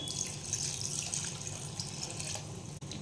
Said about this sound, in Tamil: இது இப்போ நான் குழம்புக்கு ஊற வச்சிருந்த புளி தண்ணியை இப்போ நான் ஊற்றுறேன்